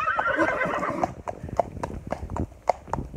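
A horse neighs loudly at the start, then hooves clip-clop in an uneven walking rhythm on a hard surface, close and clear.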